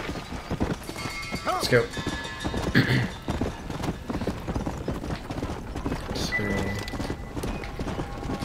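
Horse hooves clip-clop steadily in the Red Dead Redemption video game while someone talks over the riding, with a horse whinny breaking through partway.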